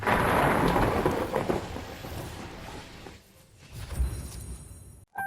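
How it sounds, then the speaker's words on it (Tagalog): Heavy rain pours down in a dense, continuous roar with deep thunder-like rumbling underneath, loudest at the start, easing slightly, then swelling again before a sudden brief cut. "agad bumuhos ang malakas na ulan"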